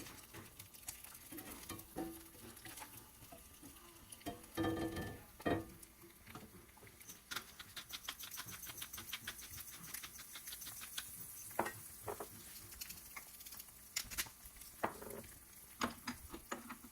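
Eggs fry in a well-seasoned non-stick pan, giving a faint continuous crackle and patter with scattered sharper pops and light scraping taps from a plastic spatula, no voices.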